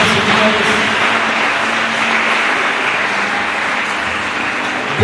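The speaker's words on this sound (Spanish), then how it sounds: "Regálele fuertes palmas al Señor de señores." A church congregation gives loud, sustained applause during a worship service, a dense steady clapping that fills the whole stretch without a break.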